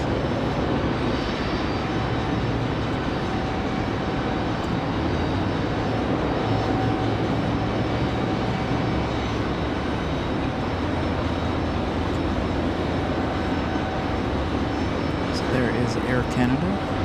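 An Air Canada airliner at Raleigh-Durham International Airport makes a steady, continuous broadband engine roar that stays loud and even throughout, with no clear rise or fade.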